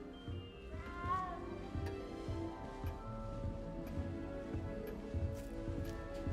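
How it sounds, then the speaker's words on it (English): A cat in the video game Hogwarts Legacy gives a short rising meow near the start, set against a continuous bed of game music and ambience. "You don't need to be frightened, little cat."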